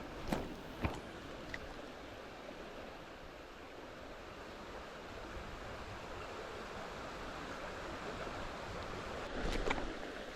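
Fast-flowing water of a small Irish trout stream in low summer flow, a steady broadband rush close by, faint and continuous, with a few brief knocks and rustles at the start and end and no talking.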